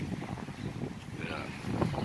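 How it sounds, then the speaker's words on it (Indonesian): Strong wind gusting across pier 7 at Merak harbour, a steady low rumble of wind buffeting the microphone, near and loud throughout with a brief surge toward the end. "anginnya guys besar ini di dermaga 7 Merak ini"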